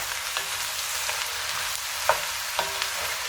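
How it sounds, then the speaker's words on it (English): Bell peppers and other vegetables stirred in olive oil in a hot pan, a steady close sizzle punctuated by a few sharp spoon scrapes and clicks. "Stir them to coat them in olive oil."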